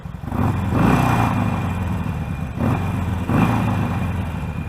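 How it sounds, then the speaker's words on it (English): A motorcycle with an aftermarket exhaust revs up twice in quick succession, a deep throaty exhaust rumble swelling and falling back close by. "This motorcycle has an aftermarket exhaust."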